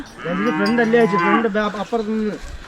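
A cow moos loudly and close by inside a cowshed, one long wavering drawn-out call followed by a shorter second moo, with no talking.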